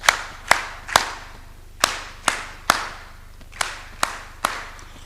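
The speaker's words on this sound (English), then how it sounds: "It's because of you, that's why we're clapping for you, the hands." Hands clapping at an East African civil society summit in 2025, a slow series of about a dozen loud, sharp, separate claps spaced unevenly, close by and without talk.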